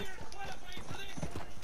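Horse hooves clip-clopping in the Red Dead Online video game, a steady run of quick hoofbeats sitting under nearly continuous talk from players.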